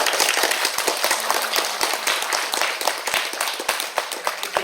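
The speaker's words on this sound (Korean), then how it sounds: "박수 한번." Applause from an audience at a policy forum on redevelopment of first-generation new towns, a dense, steady patter of many hands clapping throughout, fairly loud and close, with no talk over it.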